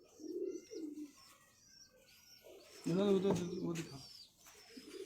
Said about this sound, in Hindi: एक कबूतर मैं आपको और दिखाऊंगा, ये कबूतर, इसके बच्चे बहुत उड़े